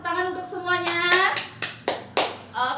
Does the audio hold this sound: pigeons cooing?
no